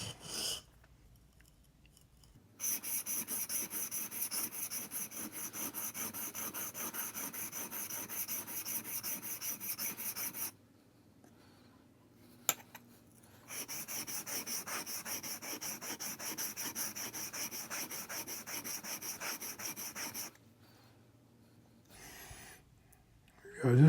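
A blade is ground across a sharpening stone with extra pressure on one side, giving two long spells of steady, close rasping strokes separated by quiet pauses.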